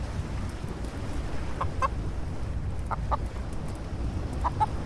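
A chicken being petted in the video game Blade and Sorcery lets out short double clucks in several separated bursts. They sound soft and somewhat distant over a constant low ambient rumble, with no talking.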